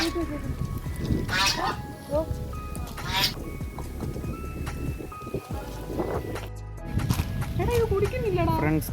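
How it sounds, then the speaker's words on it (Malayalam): Ducks quack repeatedly at Mango Meadows in Kottayam, moderately close, with near-constant talking over them and some outdoor background noise. "ഫ്രണ്ട്സ് താറാവ് ഉണ്ട്."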